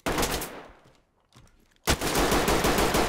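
Gunfire in the tactical shooter Ready Or Not, a loud close burst of rapid automatic shots, a brief lull with faint clatter, then another sustained burst.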